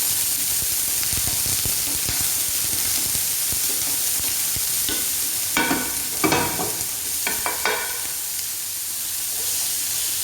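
Onion and garlic sauté in a pan with a steady, close sizzle, broken by a few louder bursts of stirring and scraping in the second half; no voices.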